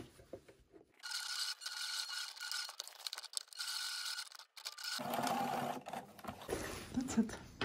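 A sewing machine stitches short horizontal lines to attach a decorative cord to fabric, a steady close whirring run that briefly pauses and restarts, with faint handling sounds near the end.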